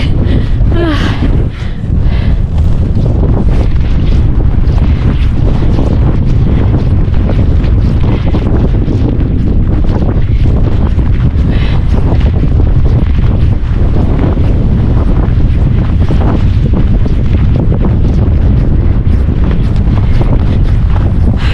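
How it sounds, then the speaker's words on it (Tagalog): Strong gusty wind beside a river batters the microphone in heavy, continuous low rumbles and buffeting, loud and close throughout with no voices. "Very windy."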